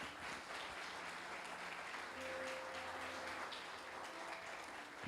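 A church congregation applauds steadily throughout, a dense wash of clapping from a crowd filling the hall, with faint sustained tones from instruments or voices beneath it.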